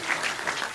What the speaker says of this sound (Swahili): Tupige Mheshimiwa Liz makofi mazuri.